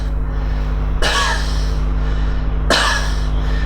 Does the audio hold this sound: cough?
yes